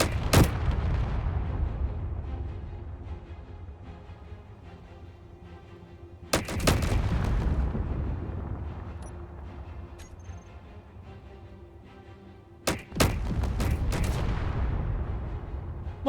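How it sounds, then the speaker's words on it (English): Heavy weapon fire in a video game, with sharp loud blasts at the start and then paired near the middle and end, each trailing into a long rumbling decay over a steady droning background. "Let's start shooting. In 3, 2, 1, shoot."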